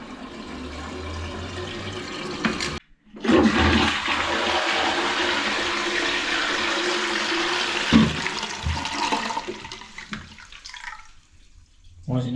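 A toilet flushes with a loud, close rush of water after a brief silence, then the cistern hisses as it refills before trailing off near the end.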